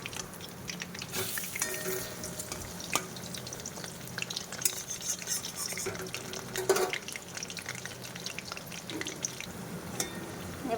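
Malabar spinach leaves dipped in batter sizzle as pakoras fry in hot oil, a steady close crackle with scattered clicks and stirring clatter throughout.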